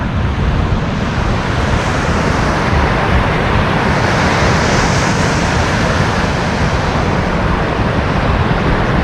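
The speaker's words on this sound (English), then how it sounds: "you can see where the waves are breaking" Surf breaks on a sandbar a short way out from a beach with dunes, a steady, loud, unbroken roar of waves with no voices.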